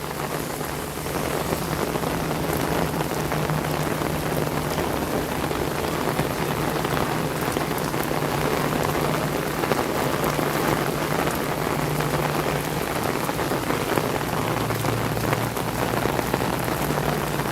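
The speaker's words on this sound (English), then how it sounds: "Tut-tut, looks like rain." Steady, dense rainfall on surfaces at an evening outdoor setting near Disney Skyliner gondolas and Friendship Boats, a continuous loud hiss with a faint low hum underneath, no voices.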